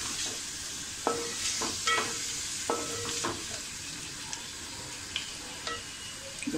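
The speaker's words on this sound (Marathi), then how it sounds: "टॅमॅटो सुद्धा आपल्याला छान याच्यामध्ये एकजीव करून घ्यायचा आहे." Tomato stirred and fried into prawn biryani masala in a pan, a soft steady sizzle broken by irregular scraping clinks of the spoon against the pan.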